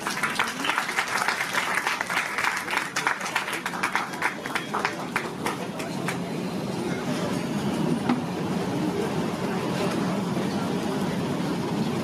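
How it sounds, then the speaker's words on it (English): Applause from an audience at a book launch event honoring guests, a dense crowd clapping steadily and fairly loudly for the whole stretch, with faint background murmur of voices mixed in. "May I have a big round of applause for them?"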